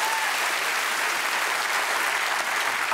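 A studio audience breaks into a dense, sustained round of clapping, even and continuous throughout, heard alone without voices.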